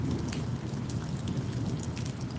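Rain falls outdoors during a thunderstorm, a dense steady patter of drops on surfaces with a low rumbling underneath, continuous and fairly loud, with no one speaking.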